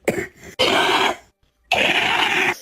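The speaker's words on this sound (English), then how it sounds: "This is the cough button." A cough button plays back recorded coughing: two loud, harsh, throaty coughs, each lasting under a second, separated by a brief silence, close and alone.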